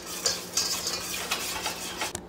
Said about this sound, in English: Now what I like to do is give it a final whisk here just to make sure there is nothing on the bottom.